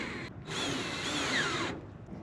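A power drill drives screws into the skin of a mini camper, one loud whining burst of about a second with the pitch sliding as the screw seats, preceded by a brief shorter spin-up.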